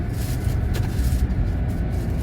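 Steady low road rumble and drone of a car being driven, heard from inside the cabin, continuous with no talking.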